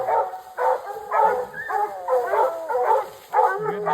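Hunting hounds bark and bay at a bear treed in the woods, a steady run of repeated bays and yips about every half second, close and loud, with no talking.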